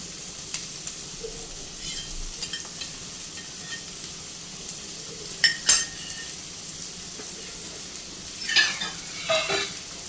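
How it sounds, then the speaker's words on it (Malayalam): Beaten egg with salt poured into a small hot pan, giving a soft continuous sizzle close by, punctuated by a few sharp scrapes and clinks of a utensil against the pan. "ചെറിയ പാനിലേക്ക് നമുക്ക് ഒരു മുട്ട കുറച്ച് ഉപ്പിട്ട് അടിച്ച് വെച്ചതാണ്, അതൊന്ന് ഒഴിച്ചു കൊടുക്കാം."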